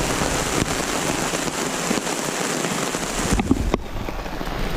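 A heavy rain downpour at a canoe campsite in Algonquin Park hisses steadily and evenly, close and dense, with a few sharper drop impacts near the end.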